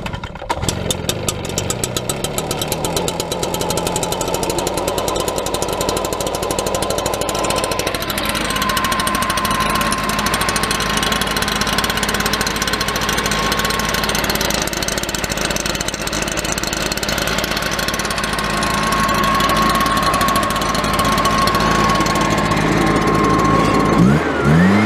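Small gas-powered engine of a string trimmer or leaf blower running steadily after being started, a loud, close, buzzing idle that holds for about twenty-five seconds with slight shifts in pitch.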